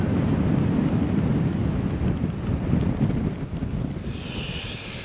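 Strong wind buffets the microphone in a low, continuous roar while out fishing on shallow water from a boat, easing slightly near the end.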